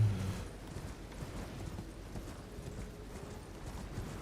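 Torrent, the spectral horse in the video game Elden Ring, trots with a steady clip-clop of hooves, close and moderately loud, against a low, busy game soundscape.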